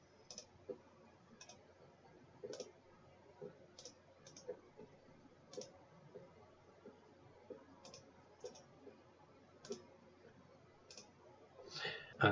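Sharp, evenly spaced computer mouse clicks during Excel spreadsheet work, one every second or so, quiet and close, over a faint background hum.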